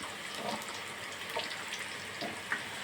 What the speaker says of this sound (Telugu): బాగా కొంచెం లైట్ బ్రౌన్ కలర్ వచ్చే వరకు ఫ్రై చేయాలన్నమాట